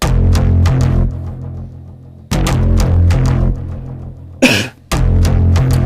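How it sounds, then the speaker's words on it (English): A harsh, heavily processed cello loop plays in thick, gritty low bowed chords with clipped stabs, pausing briefly between phrases, a short swooping noise burst near the end, loud and alone. "This is just me playing my cello and then sound designing it."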